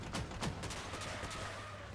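Video game gunfire from a real-time strategy battle with atom units, a quick volley of sharp distant shots in the first second followed by a low continuous rumble of combat.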